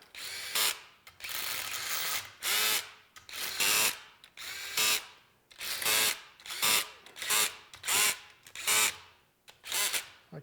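A power drill on its lowest setting runs bolts down on a 350 in about a dozen short, loud whirring bursts, each a second or less, separated by brief pauses.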